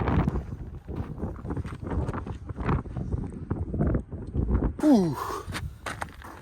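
Wind gusting across a volcanic trail on Tenerife buffets the microphone in steady low rumbling bursts, with a short whistling sweep rising out of it near the end.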